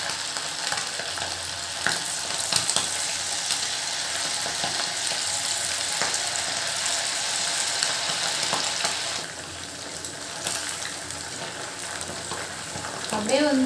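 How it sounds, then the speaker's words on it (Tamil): Squid rings for squid 65 frying in hot oil, a dense continuous sizzle and crackle held steady throughout, briefly dipping before rising again, with an occasional stir and no voices. "இது வந்து எண்ணெயில் போடும்போது தெரிக்கும்"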